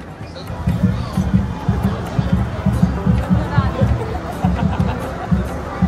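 Crowd bustle at the Shri Siddhivinayak temple in Titwala, with a thick hum of chatter and voices close by and steady rhythmic low thumping beneath the busy din.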